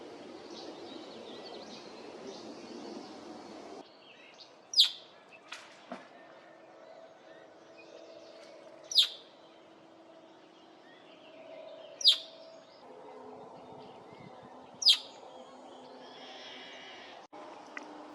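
Red-winged blackbird calls at a wetland sanctuary boardwalk in Alberta, Canada: four sharp, bright calls spaced a few seconds apart, fairly close, over steady marsh ambience with distant murmuring voices and low background noise.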